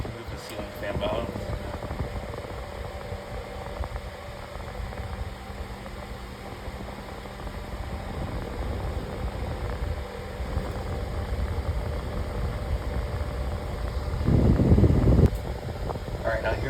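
A Vornado VFAN 4.5-inch air circulator runs with a steady broadband whoosh of moving air, a faint motor hum and a louder gusty burst near the end, while a person talks over it.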